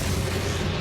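A Depulso spell cast in Hogwarts Legacy, a dense, loud, booming magical burst with a deep rumbling low end, brief and close.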